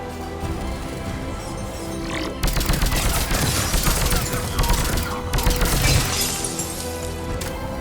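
Sustained Mass Effect 3 gunfire erupts in rapid bursts, dense crackling automatic shots with shattering impacts, loud and close, building then easing off.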